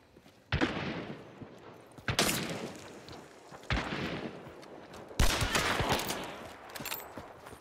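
Four loud gunshots ring out one by one, each with a long echoing tail, as a player shoots out a light in the game Hunt: Showdown.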